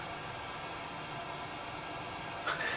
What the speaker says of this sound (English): You can hear the hiss.